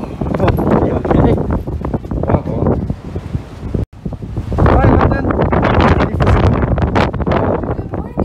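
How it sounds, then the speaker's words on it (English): Strong gusts of wind buffet an outdoor microphone with a loud, continuous roar and rumble, briefly cutting out midway, while people talk underneath. "Oh my gosh, it's so windy."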